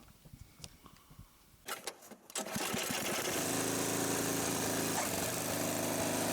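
At a campsite in Morgins, a few clunks and handling noises give way to a motorized machine starting and running steadily and loudly nearby, its engine drone alone.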